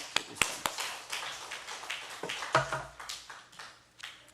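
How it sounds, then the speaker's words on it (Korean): Congregation applause at a daytime worship service in a Korean prayer house: uneven, scattered claps of moderate loudness that rise and fall in irregular bursts, with a brief voice partway through. "하나님께 영광의 박수"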